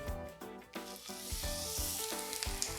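Meat searing in a hot oiled pan at around 400 to 450 degrees, giving a steady close sizzle and hiss with a few soft thuds and clatters at the start.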